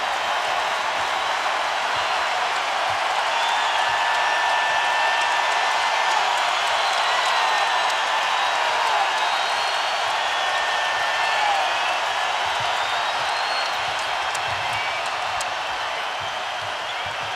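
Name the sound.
basketball arena crowd cheering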